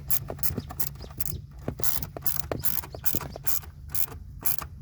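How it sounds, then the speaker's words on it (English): A small screw is hand-tightened during a SAFEDRIVE Pro install, giving a close run of quick, irregular ratcheting clicks and faint creaks that repeat for several seconds. "So I'm simply hand tightening this small screw head in there right now, and then I'm going to simply tighten it down."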